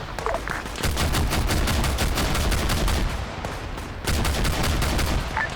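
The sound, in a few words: gunfire in a military video game battle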